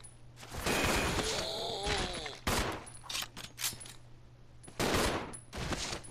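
Gunfire in a Resident Evil 0 zombie fight: several sharp, loud shots in separate bursts, with game sounds between them and a low steady hum underneath.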